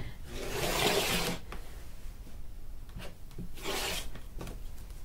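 Scissors or a rotary cutter slicing the stiff selvage edge off quilt fabric for a minky baby blanket make two close, rasping cuts separated by quieter handling rustles.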